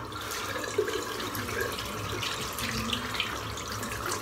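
A running tap rinses shaving soap off a razor at a sink, a steady close-up splashing stream with slight gurgles as the water hits the metal, no talking.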